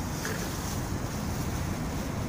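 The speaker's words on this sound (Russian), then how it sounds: "Ветер сильный" Strong wind blusters steadily across the microphone outdoors on a cold late-May day, a continuous low roar with no break and no voices.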